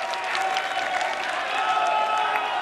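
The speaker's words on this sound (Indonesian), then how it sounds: "Tepuk tangan untuk para pendukung yang bersemangat malam hari ini." Loud, sustained applause with crowd noise and some cheering from supporters at a 2017 Jakarta gubernatorial election debate, a dense unbroken roar of clapping in a large hall.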